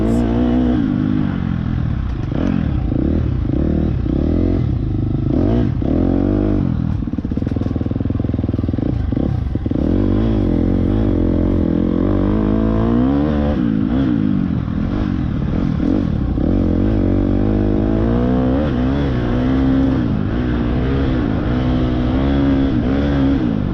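A dirt bike engine revs hard during a cross country race, loud and close throughout, rising and falling with constant throttle changes as it climbs a hill, with no talk over it.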